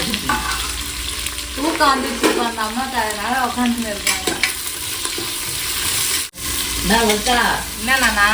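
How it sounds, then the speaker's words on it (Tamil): Whole cinnamon, cloves and cardamom fry in hot oil for a nalli bone mutton biryani, a loud close sizzle with stirring scrapes while a person talks over it. "பட்டை லவங்க ஏலக்காய் இதெல்லாம் போட்டுக்கிறேன்"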